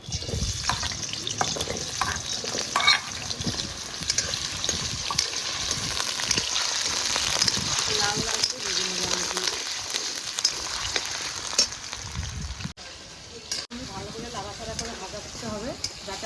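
Potatoes fry in hot oil in a pan for a vegetarian potato and pointed gourd dish, a steady close sizzle running throughout with stirring scrapes and brief clatter, and no talk over it.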